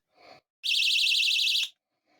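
A piercing warbling electronic alarm shrieks for about a second, loud and close, with brief faint clicks or breaths before and after.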